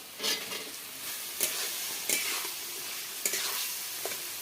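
Potatoes going into a spice paste frying in a pan for a rohu fish curry: soft sizzling under several sharp scrapes and clatters of a spatula, close and alone.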